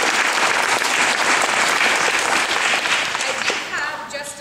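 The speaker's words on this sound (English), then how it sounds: "So give yourself a hand of round of applause." A large audience breaks into sustained, dense applause at a formal ceremony, steady and loud for several seconds before easing slightly at the end.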